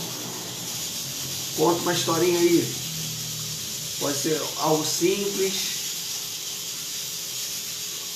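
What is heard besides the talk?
pressure cooker hissing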